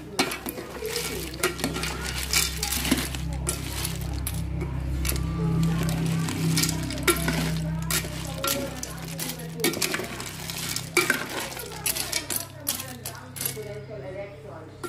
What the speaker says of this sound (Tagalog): pwede na ilagay yung ating suso, leddeg